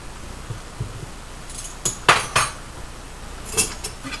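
A utensil scrapes and clinks against a bowl while spiced pancake batter with baking powder and baking soda is stirred, giving a few soft taps followed by sharp rattling clatters in a quiet kitchen.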